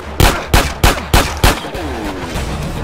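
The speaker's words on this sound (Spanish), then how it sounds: "¿Y esos disparos?" Five evenly spaced gunshots crack out from a GTA San Andreas street scene, loud and punchy, then fade into a noisy background with no talking.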